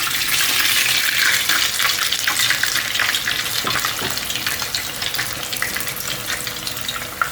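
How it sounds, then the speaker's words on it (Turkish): Hands being washed under a running kitchen tap, a steady broadband rush of water with slight splashing changes, close and continuous with no talk. "Şimdi ellerimi yıkıyorum dostlar."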